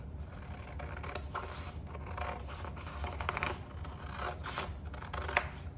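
Scissors snip repeatedly through paper, a series of crisp cuts with rustling in between, close and fairly quiet.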